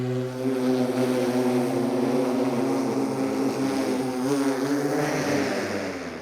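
An electric vertical takeoff and landing aircraft flies nearby with a loud, steady multi-rotor hum and wavering propeller tones, sustained throughout without speech.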